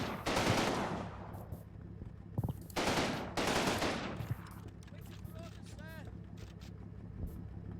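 Bursts of automatic gunfire in the Combat Mission: Battle for Normandy war game as units fire into a treeline, two long loud volleys followed by quieter scattered shots and a faint rumble.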